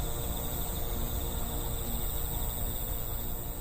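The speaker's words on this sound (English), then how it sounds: "Listening to the sounds of the insects that busily go about their business." Dense, steady chirping of insects, probably crickets, fills a forest, a continuous high trill close and fairly loud, with no voices.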